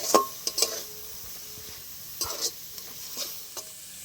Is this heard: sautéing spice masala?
yes